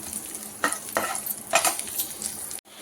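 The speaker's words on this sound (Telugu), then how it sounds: "ఇప్పుడు ఇదే ఆయిల్లో పుదీనా, కొత్తిమీర వేసి ఫ్రై చేసుకోవాలండి" Chopped mint and coriander sizzling in hot oil for Karnataka-style chicken donne biryani, with close, soft hiss and a few scraping stirs of a spoon through the pan, ending abruptly.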